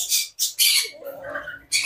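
Loud, harsh squawks from a lory or cockatoo chick about 30 days old, in three bursts with a short gap before the last, near and unaccompanied by talk.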